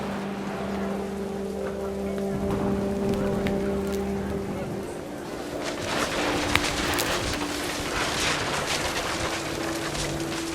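Panicked geese honking in What Remains of Edith Finch, with scattered calls over wind and then heavy rain, under steady background music.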